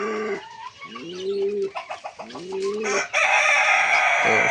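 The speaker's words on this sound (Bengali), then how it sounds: "এগুলা শাটিন কবিতর, এটা মেয়ে ওটা ছেলে।" Satin pigeons in a home loft, cooing close and clear in repeated rising-falling calls, with other fowl and bird calls layered over them toward the end.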